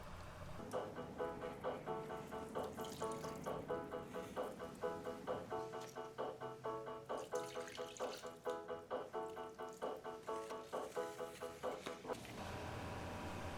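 Tap water runs into a sink while sweet potatoes are washed, a steady splashing stream broken by rhythmic pulses of handling and rinsing, fairly close, ending with a smoother continuous flow.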